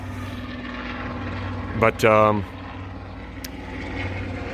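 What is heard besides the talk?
helicopter flying over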